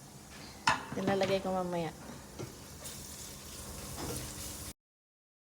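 Egg and rice frying together in a pan for garlic yellow fried rice, a steady close sizzle with stirring and scraping, while a voice talks briefly over it near the start.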